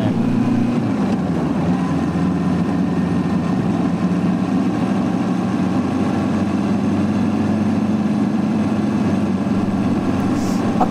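A Kawasaki Ninja 400 motorcycle engine while riding: a continuous, even drone with a steady tonal hum and broad rushing noise, holding constant throughout with no talking.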